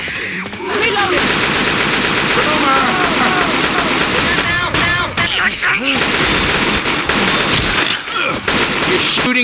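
Rapid automatic gunfire from the video game Left 4 Dead 2, dense overlapping bursts of shots with brief pauses, loud and continuous throughout.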